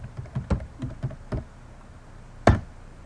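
A handful of distinct keystrokes tapped on a computer keyboard in a quick uneven burst, then a pause and one louder final key press, close and clear with no voices.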